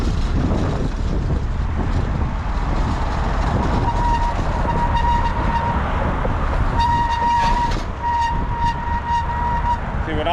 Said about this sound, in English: Heading right over a commuter rail train right now.